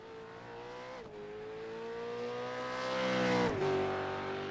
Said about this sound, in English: watch those celebratory burnouts by Stephen